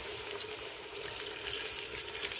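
Water poured into a meat tajine pot holding meat and onions, a steady broadband rushing splash that runs evenly and close for the whole stretch with no talking.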